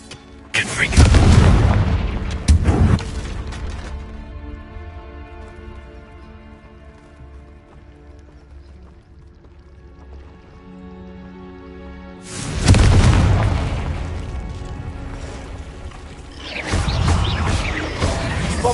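Explosion spells Bombarda and Confringo blast in a PS5 video game: a loud burst of booming impacts, a quieter stretch of tonal game music, then another heavy run of blasts.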